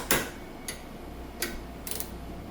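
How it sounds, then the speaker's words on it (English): An Amazon Basics torque wrench clicks while a bearing is torqued to 47 foot-pounds on a Duramax engine build, four sharp metallic clicks, close and isolated, with no talk. "Now I'm torquing it, yes, with my Amazon Basics to 47 foot-pounds."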